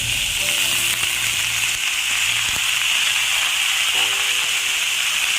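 Kuruma curry sizzling and frying steadily in a pan while being stirred, a continuous close hiss with occasional soft scrapes and no talking.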